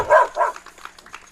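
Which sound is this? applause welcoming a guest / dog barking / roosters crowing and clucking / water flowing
dog barking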